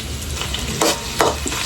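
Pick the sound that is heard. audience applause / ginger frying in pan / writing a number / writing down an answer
ginger frying in pan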